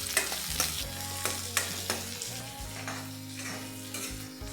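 Chillies, onion and ginger sizzle in a pan for idli sambar, a soft steady frying hiss broken by several sharp clacks of stirring, fairly quiet and with no one speaking.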